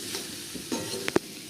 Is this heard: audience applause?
no